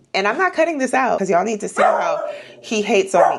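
A pet dog barks and yips at close range in a home recording room, its sharp calls mixed in and around a person talking continuously.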